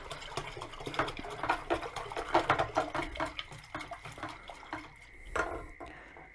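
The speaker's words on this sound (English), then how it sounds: "So get that in there, just give it a quick stir." Homebrew beer (Morgans Australian Old extract brew) stirred in a fermenter after pitching yeast. Soft, irregular liquid swishing and sloshing runs throughout, with faint clinks and no talking.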